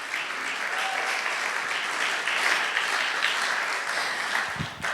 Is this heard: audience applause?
yes